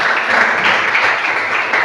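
Applause fills a classroom, a steady, dense patter of many hands clapping together for a couple of seconds at close range.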